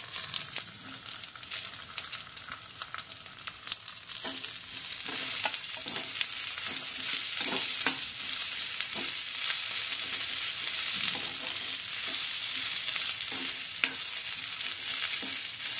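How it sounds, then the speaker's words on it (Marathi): Onions frying in oil in a pan, a constant hissing sizzle with repeated scraping and clinking as the mixture is stirred, close up and without talk. "भाजत आलेला आहे त्याचा आपण कांदा भज्यामध्ये फ्राय करायला टाकू"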